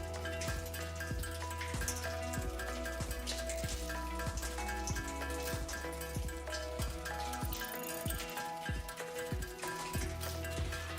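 Rain falls in the video game Satisfactory, a steady, faint patter of drops mixed with ticking and clicking game noises, with no talk.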